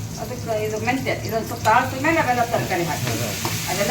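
Fenugreek leaf curry sizzles and crackles in a pan while a utensil scrapes and stirs, with voices talking over the cooking.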